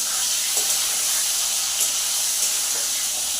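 Potatoes dropped into hot oil tempered with nigella seeds sizzle loudly and steadily, a dense close hiss with small crackling bursts.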